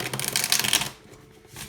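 Tarot cards shuffle in a quick riffling burst, close and crisp, then stop, leaving a quiet room with no talking.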